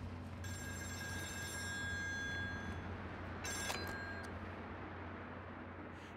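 A telephone rings in the horror video game Still Wakes the Deep, with a faint, thin electronic ring lasting a couple of seconds, then a shorter second burst over a steady low industrial hum.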